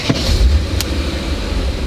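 A BMW M5 engine starting up warm, a loud, close, steady low rumble settling in right after a brief crank.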